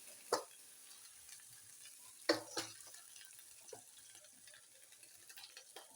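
Spices such as cumin powder, turmeric and coriander go into a hot pan for a soybean curry, giving faint sizzling with a few sharp clinks and stirring scrapes near the start and middle.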